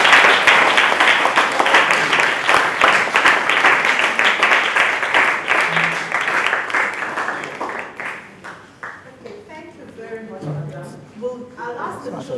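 Audience applause at a children's reading event, a long, loud round of clapping that gradually thins and fades, giving way to quieter scattered claps and murmuring voices toward the end.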